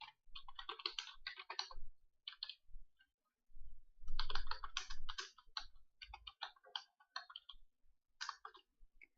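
Someone types a basic PHP file on a computer keyboard in a quiet room. Several bursts of quick, close key clicks are separated by short pauses, with no talking.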